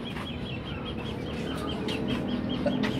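Large farm chickens kept for manure cluck steadily and close by, a busy overlapping chorus of short clucks with no talking.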